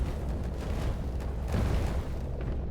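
Building collapsing in the game Instruments of Destruction: a sustained, heavy low rumble with crumbling bursts, loud and continuous throughout, with no talking.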